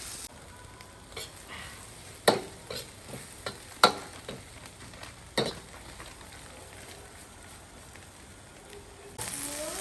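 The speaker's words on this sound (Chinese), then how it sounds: "再炒一会儿啊，让它豆豉和辣椒融合在一起。" Fermented black beans and chili peppers stir-fried in a pan, a soft steady sizzle with a few sharp scrapes and clacks of the spatula.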